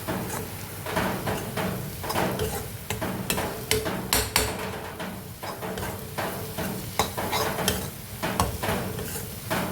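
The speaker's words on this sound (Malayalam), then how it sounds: "വെളിച്ചെണ്ണ തെളിഞ്ഞ് വന്നതിന് ശേഷം നമുക്ക് ചെമ്മീൻ അതിലേക്ക് ഇട്ട് കൊടുക്കാം." Prawns fry in hot coconut oil for a prawn roast, a steady loud sizzle broken by repeated sharp scraping and clanking as a utensil stirs the pan, with no voices.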